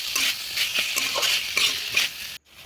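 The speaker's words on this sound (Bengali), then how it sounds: "দিয়ে ভালো করে আলুটা কষিয়ে নেব মশলার সঙ্গে" Boiled potatoes frying with spices in a pan for aloo matar ghugni, a close, steady sizzle with repeated scraping stirs, ending in a brief near-silent gap.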